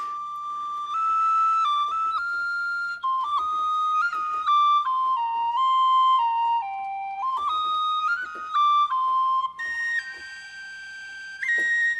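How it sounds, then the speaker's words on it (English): Tin whistle sample from the Project Sam Lumina library playing a legato melody, clear sustained notes gliding between pitches with bright airy tone, close and alone without talk. "the tin whistle, the humble tin whistle, is probably my favourite of all of these instruments"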